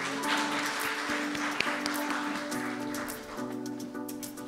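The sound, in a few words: audience applause welcoming a speaker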